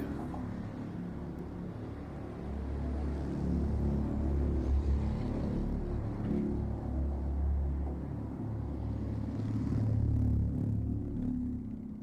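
City traffic heard from beneath a highway makes a continuous low rumble, steady and enveloping with slow swells in loudness and no voices.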